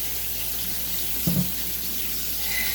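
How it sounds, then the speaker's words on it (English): Cold tap water runs steadily into a kitchen sink over drained al dente pasta, a constant close hiss with a brief clunk partway through. "go ahead and turn on your cold water because you want to stop the cooking process of your pasta"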